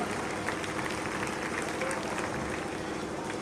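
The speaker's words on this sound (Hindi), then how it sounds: "जोरदार ताली।" A devotional jagran crowd claps in a dense, continuous wash, fairly distant and even throughout, with some voices mixed in.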